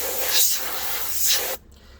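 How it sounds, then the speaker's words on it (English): Canned air sprays in two short hissing bursts over a laboratory scale, loud and close, each lasting about half a second, then cuts off abruptly into quiet. "what I'm going to do is generally use canned air, and I'm just going to kind of spray around"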